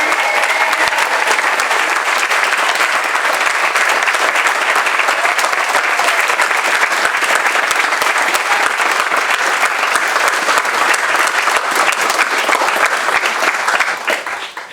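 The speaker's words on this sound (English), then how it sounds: "Let's give our PAFA graduates another big round of applause." Loud, sustained audience applause for art school graduates at a commencement ceremony, a thick continuous roar of clapping from a large crowd that holds for about fourteen seconds before tapering at the end.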